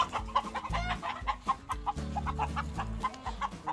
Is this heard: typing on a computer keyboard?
no